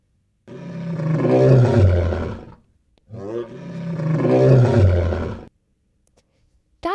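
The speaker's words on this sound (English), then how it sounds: "lion," A lion gives two long, loud, deep roars in a row, each swelling then fading, separated by a short silence.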